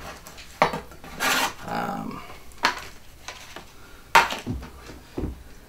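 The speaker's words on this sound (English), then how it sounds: "I usually cut them into the thin strips and then I cut them again in half." A knife slices jalapeno peppers into thin strips: close, crisp cutting strokes come in a few irregular bursts with short pauses between them.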